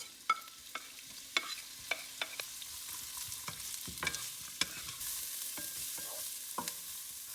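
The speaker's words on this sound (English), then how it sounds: "add the white onion and carrot to saute" White onion and carrot sauté in hot oil in a pan, a steady soft sizzle running throughout with scattered sharp clinks and scrapes of stirring spread across the clip.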